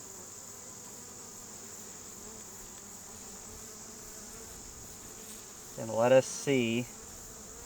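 Honeybees buzzing in an open beehive during a hive frame inspection, a low steady hum throughout with a voice speaking briefly near the end.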